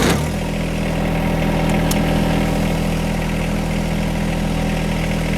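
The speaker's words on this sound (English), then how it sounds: "Make sure the tractor's in neutral, parking brake's on. Go ahead and start the tractor." John Deere 1025R compact tractor fitted with a mower deck and front loader, its engine catching at the start and then idling steadily and loudly with a constant low hum, no talking.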